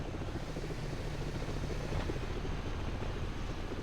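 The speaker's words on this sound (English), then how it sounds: "Helicopter back there to raise the cane." A video game helicopter drones with a steady, dense rumbling whir that stays even and unbroken throughout, fairly loud and alone without voices.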